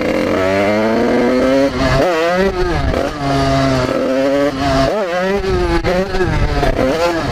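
A 50cc motorcycle engine revs hard and continuously while the rider lifts into a wheelie, pitch rising and falling in repeated surges, loud and close throughout.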